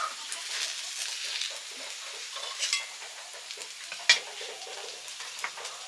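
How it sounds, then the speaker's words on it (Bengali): Slices of green plantain fry in a pan at a steady, soft sizzle, with light stirring scrapes and a sharper clink near the end, heard alone without talk. "কাঁচকলার ভাজা হচ্ছে।"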